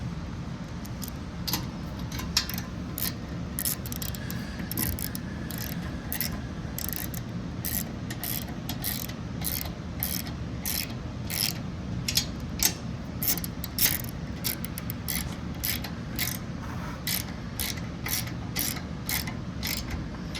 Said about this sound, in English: So grab your 13 millimeter socket and tighten that down.